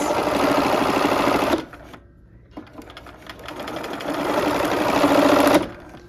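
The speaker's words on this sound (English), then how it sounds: "I'm just gonna sew that straight through, and I 1/4 inch seam, of course." A sewing machine stitching a straight quarter-inch seam on a quilt block, a fast, close mechanical whir of needle strokes in two bursts separated by a short pause.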